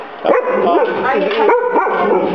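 A dog barks and yips close by in a home, several sharp, whiny barks in quick succession mixed with high whimpering tones, loud throughout.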